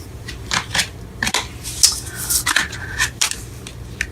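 Tarot cards are shuffled in quick, crisp riffles and flicks, close up, with a few brief pauses between bursts.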